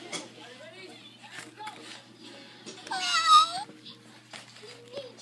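A recorded cat meow from a Baby Einstein children's sound book plays once, a bright mid-pitched call rising out of quiet background room noise, with someone talking softly before and after it.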